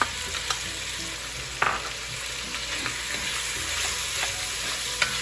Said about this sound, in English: We want to let the onions cook for a little bit so that it softens.